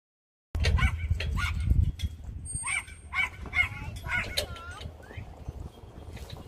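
Dogs at an outdoor dog park bark and yip in short, irregular bursts, some close and loud, others fainter, with rustling and scattered activity between them.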